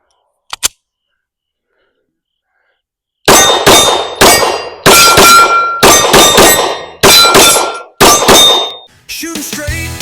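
Shots from a Derya DY9 shotgun with a ported island barrel. A few faint clicks are followed by a rapid string of six loud, sharp, ringing blasts at close range, with a quieter metallic clatter at the end.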